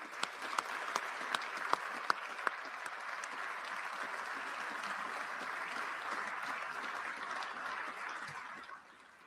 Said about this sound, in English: Please join me in a round of applause to show our deep appreciation for our state agency